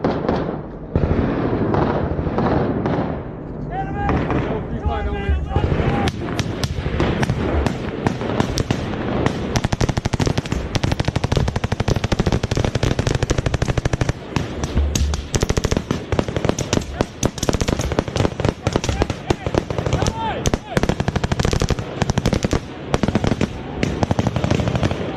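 Rapid bursts of automatic gunfire crackle in a firefight with the Taliban, dense and loud, with overlapping shots and brief pauses and shouting voices mixed in.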